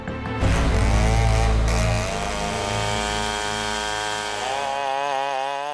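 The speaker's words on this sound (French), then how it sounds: "Des tronçonneuses qui abattent des arbres." A loud, steady engine roar of a chainsaw felling trees, running continuously, with the motor's pitch shifting and wavering as it works, close by.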